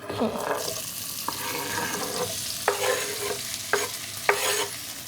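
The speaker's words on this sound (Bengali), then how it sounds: "এবার আমি পেঁয়াজ এবং টমেটো একসাথে দিয়ে দিচ্ছি পুরোতে" Onions and tomatoes sizzling in hot mustard oil, a steady hiss punctuated by several sharp stirring scrapes and clacks of a spoon against the pan.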